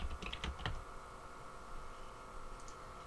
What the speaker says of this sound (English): let's just type a little text.